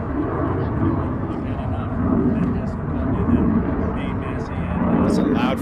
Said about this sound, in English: That's a loud fucking plane.